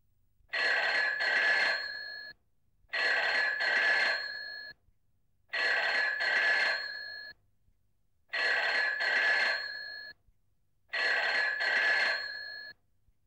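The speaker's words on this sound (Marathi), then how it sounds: "फोन वाजतोय बघ." An indoor telephone bell rings in five evenly spaced double bursts, each about two seconds long with short silences between, clear and moderately loud with no talk over it.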